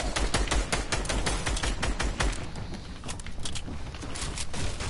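Rapid bursts of gunfire from a Fortnite match, dense volleys in the first half, then sparser shots, loud and close throughout with no speech.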